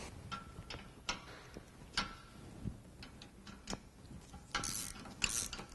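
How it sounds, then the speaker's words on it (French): A ratchet wrench tightens the rear brake caliper bolts on a Fiat 500, giving faint, sparse clicks and metallic knocks spaced irregularly in a quiet workshop, with a brief word of speech. "récupérez votre cliquet de 13 ainsi que votre clé de 17 pour pouvoir bloquer"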